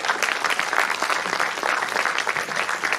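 Thunderous applause from a crowd at a ceremony honouring Congolese diaspora women in Belgium, a dense and loud wash of clapping that holds steady throughout.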